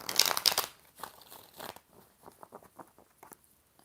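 Tarot cards are shuffled close by, a burst of crisp riffling and slapping followed by softer repeated flicks and rustles as the deck is worked, no talking.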